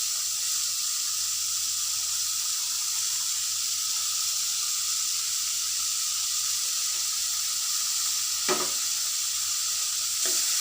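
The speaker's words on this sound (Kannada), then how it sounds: "ಮೆಣಸಿನ ಕಾಳನ್ನು ಹಾಕ್ತಾಯಿದ್ದೀನಿ." Peppercorns dropped into hot oil for a fenugreek curry, giving a steady, even sizzle and hiss that holds throughout, with a short clatter near the end.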